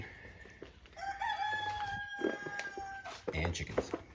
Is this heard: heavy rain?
no